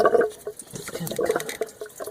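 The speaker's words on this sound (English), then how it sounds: "we're going to lose a bunch more coolant" Coolant pours from a 1997 Honda Civic during a thermostat replacement, a close, continuous splashing trickle of liquid with no talk.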